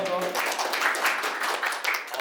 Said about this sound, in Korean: 먼저 큰 박수 부탁드리겠습니다.